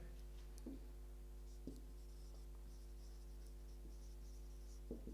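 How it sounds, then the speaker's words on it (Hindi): Pen or pencil writing a definition by hand on paper: faint, close scratchy strokes with a few light taps over a steady low electrical hum, no talking. "लिखते हैं इसका डिफिनीशन"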